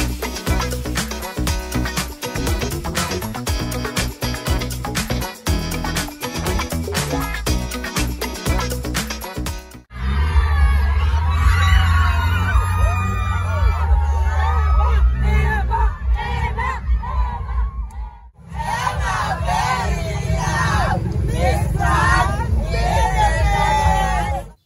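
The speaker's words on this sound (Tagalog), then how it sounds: "Ganito kalakas ang hiyawan ng mga taga-Mabalacat City, Pampanga sa pagsalubong kay Miss Grand International 2025 Emma Mary Tiglao" Loud crowd cheering and shouting from residents of Mabalacat City, Pampanga welcoming Miss Grand International 2025 at her homecoming parade, sustained and dense after a stretch of music, continuing to the end with brief dips.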